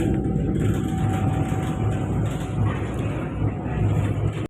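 A metro train rumbles steadily past at close range, with a faint high whine running through the loud, continuous roar.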